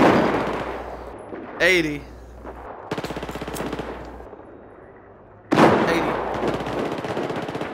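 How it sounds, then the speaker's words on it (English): Bursts of automatic gunfire in the shooter Battlefield 4, loud and close, separated by quieter gaps with a sharp whoosh, while a voice speaks briefly between volleys. "Clear, clear, I'm shooting!"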